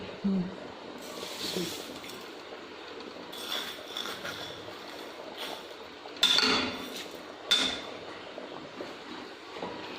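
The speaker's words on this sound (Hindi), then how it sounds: "और चम्मच चलाते रहेंगे।" A spoon scrapes and clinks against a pot of ground-rice kheer in repeated stirring strokes, close and fairly quiet, with a few louder scrapes.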